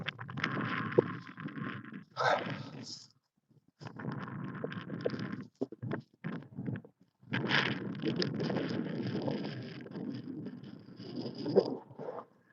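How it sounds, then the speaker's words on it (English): Strong wind blows outdoors along a walkway, buffeting the microphone in loud, rumbling gusts that come and go with brief quiet gaps in between. "the wind is blowing pretty hard"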